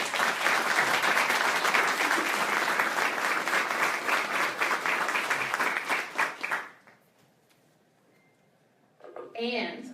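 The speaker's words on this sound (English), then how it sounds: "Give him a big round of applause." A large crowd at a city mayoral announcement of a new police chief breaks into loud, sustained applause that fades after several seconds, then a voice speaks.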